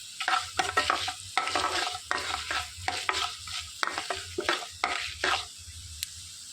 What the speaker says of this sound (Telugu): 1 టేబుల్ స్పూన్ జీలకర్ర, 1 టేబుల్ స్పూన్ మినపప్పు వేసి కలిపేసుకోవాలి.